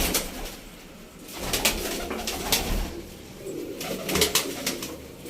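Breeder pigeons in a loft coo in soft, repeated low calls, fairly close, with light rustling and outdoor background noise.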